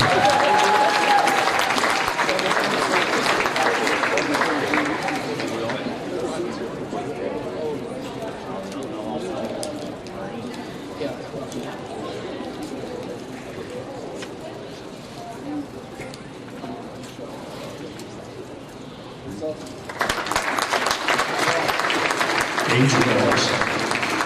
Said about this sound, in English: How about a big round of applause for these seniors?